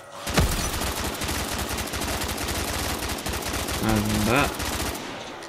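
Sustained automatic gunfire from a non-upgraded weapon on a Black Ops 3 custom zombies map set in a modern house, dense rapid shots throughout, with a brief voice and a rising whine partway through.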